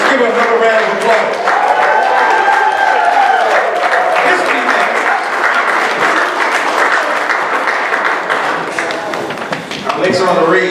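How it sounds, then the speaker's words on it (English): Sustained applause from an audience for a speaker, a thick steady roar of clapping throughout with a voice talking over it, thinning slightly near the end. "Give her another round of applause."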